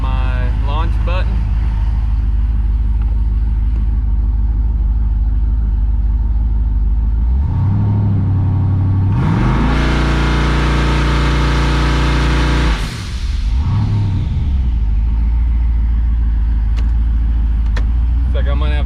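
A GMC truck engine, set up with a new fuel system, revs hard at launch, rising and falling in loud surges close to the microphone while someone talks over the steady idle.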